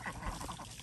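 Penciled Indian runner ducks, both drakes and hens, give a rough run of close, fairly loud quacking calls that keep going with no break.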